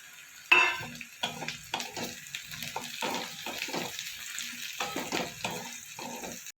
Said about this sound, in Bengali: এবার দেবো রসুন কুচি, 4-5টা রসুন কুচিয়ে নিয়েছিলাম।